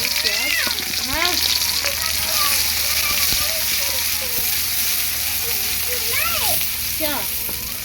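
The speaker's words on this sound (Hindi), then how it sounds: "तो प्याज को थोड़ी देर पकाना है।" Chopped onion and garlic fry in a pan for saag with a steady, close sizzling hiss throughout, while someone talks over it.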